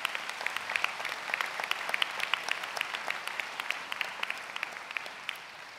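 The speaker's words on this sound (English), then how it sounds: "please applaud yourselves for this." An audience at a 2015 law school commencement ceremony applauds the graduates: a sustained, fairly distant patter of many hands clapping, with individual claps popping out of the steady wash.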